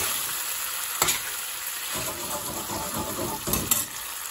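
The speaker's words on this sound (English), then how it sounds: "let's get some base gravy in here now" Base gravy hits a hot pan for a ginger chicken bhuna and sizzles loudly and continuously, with a few bursts of spattering and stirring scrapes across the clip.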